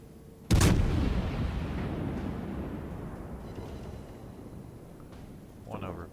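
A single sharp blast of warship secondary guns in World of Warships, sudden and loud, followed by a long rumbling decay that fades over several seconds, with a faint voice near the end.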